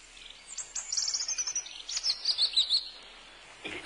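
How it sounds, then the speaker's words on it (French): A European robin sings nearby, a quiet run of high thin trills and twittering phrases that rise and fall in two short bursts over faint background hiss. "Non, c'est le rouge-gorge."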